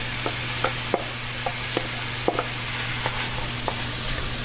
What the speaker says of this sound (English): I'm going to now add my tofu in.